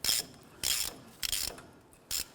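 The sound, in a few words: 27mm socket ratchet tightening Ford Ranger brake rotor nut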